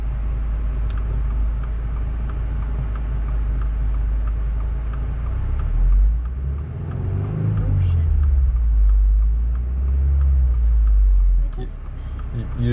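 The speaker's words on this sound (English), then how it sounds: "Why don't we go into first gear again and get a couple more practice runs in here." A 2022 Subaru WRX with a manual gearbox pulls away in first gear: a steady low engine rumble swells into a louder rev midway, then settles and builds again, with faint voices in the cabin.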